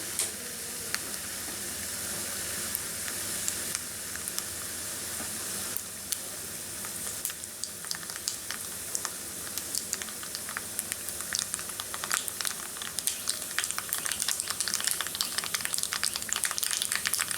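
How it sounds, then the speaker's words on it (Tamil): Steady sizzle of hot oil with sharp little pops and crackles of mustard seeds spluttering, growing busier toward the end, while tempering for pongal; no talking. "கடுகு நல்லா வெடிக்கட்டும்."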